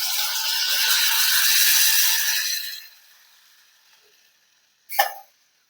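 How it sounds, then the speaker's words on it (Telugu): Tamarind juice is poured into a hot pan for egg curry, raising a loud, close sizzle that hisses for about three seconds, fades to a faint simmer, then flares in one brief sharp burst. "చింతపండు పులుసు పోసుకోవాలి"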